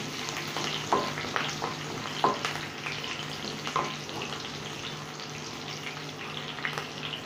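Green chillies frying in a hot pan for kanda poha, a steady close sizzle with a few sharp crackles and pops, no talking.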